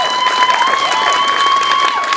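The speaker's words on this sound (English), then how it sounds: "Can we give a round of applause for that?" An audience at a Front Royal community gathering applauds a $500 donation, a steady wash of clapping and crowd noise lasting a couple of seconds, with thin sustained whistle-like tones running through it.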